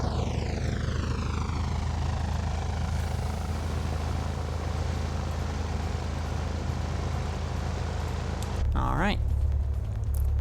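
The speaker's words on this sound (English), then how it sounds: "We've got ourselves an airplane that's running." Twin piston engines of a PA44 Seminole in Microsoft Flight Simulator 2020 run with a steady, close propeller drone at constant loudness, with a brief rising whine near the end.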